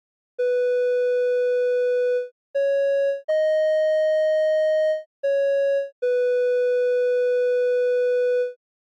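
Pure, sine-like synthesizer tones with a breathy, recorder-like character sound in five sustained notes separated by short gaps, the middle one pitched slightly higher, clean and alone.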